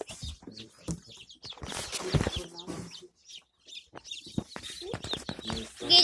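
Small chicks peep and cheep in a busy, high chatter, close up, with some rustling and handling noises.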